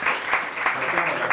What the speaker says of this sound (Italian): facciamo un applauso a Adriana di essere qui con noi.